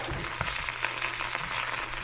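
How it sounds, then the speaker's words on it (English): Zucchini, snap peas, onion and peppers sizzle in a hot pan, a steady close frying hiss with faint crackles and no voices over it. "We're starting to get a little sizzling action from our vegetables."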